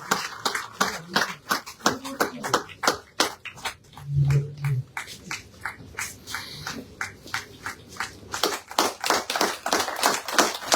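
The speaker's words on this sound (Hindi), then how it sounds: "जोरदार जोरदार तालियों के साथ शगुन परिहार जी का सम्मान करें।" Loud, rhythmic group clapping at a party event in Jammu, sharp claps repeating steadily for about ten seconds. A brief voice breaks in near the middle.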